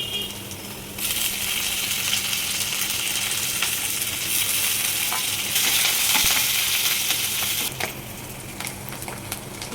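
Curry leaves hit hot oil in a frying pan while soya manchurian is being cooked. A sudden steady sizzle bursts in and carries on, swelling louder partway through, with a few faint clinks and stirring scrapes.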